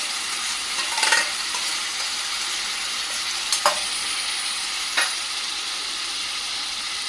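Crushed tomato puree hits sautéing onions in a pan for soy chunk keema, giving a steady broad sizzle with a few brief stirring clinks, no voices.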